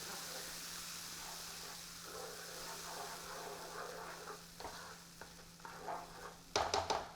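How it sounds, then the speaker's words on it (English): Tomato and onion puree for a chicken curry simmers and hisses quietly in a pan, while a spoon stirs it with soft scrapes and a few sharper knocks near the end. "And then pour in the tomato and onion puree."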